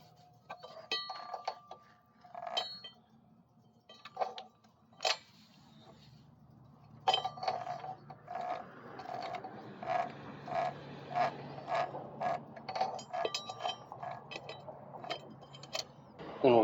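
Bicycle-style chain being fed onto a sprocket behind the torque converter of a Coleman BT200X minibike, giving light metallic clicks, ticks and rattles in irregular bursts, close up and fairly quiet.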